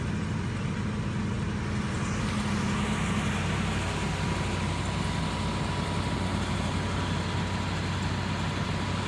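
A 1987 Cadillac Brougham engine idles steadily, a constant low hum and rumble close by that stays even throughout with no talking.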